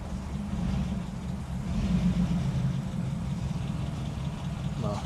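A 1950 Ford Custom Deluxe convertible with a column-shift 3-speed starts and settles into a steady, close, low engine idle that carries on evenly throughout, with no talk.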